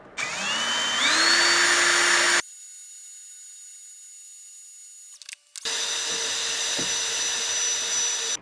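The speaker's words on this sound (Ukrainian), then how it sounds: "давайте попробуємо, чи буде сверлити, чи патрон буде тримати." A ProCraft PA BL 12 brushless cordless drill with a 1 mm bit spins up with a rising whine, cuts out abruptly, then runs again at a steady high pitch after a brief clatter, close and loud.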